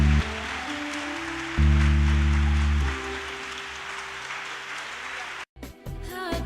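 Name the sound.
applause acclaiming Reverend Georges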